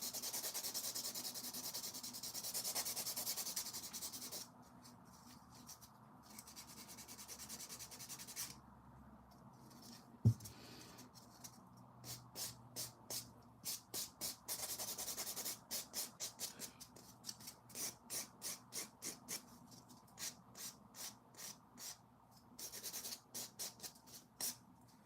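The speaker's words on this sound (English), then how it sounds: "I get crazy when I start filing." A 100-grit nail file shaping fingernails during a manicure, heard as soft, close rasping strokes that start as a steady rub and then turn into a quick rhythmic series of short scrapes, with no talk.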